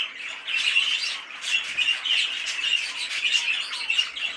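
Budgerigars squawk and chatter in a bird shed, a continuous run of harsh, close, fairly loud calls with no pause.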